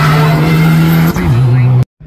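A rally Ford Escort races hard up Craigantlet Hillclimb, its engine a loud, close, steady howl that dips briefly with a gear change, then cuts off abruptly before a faint return.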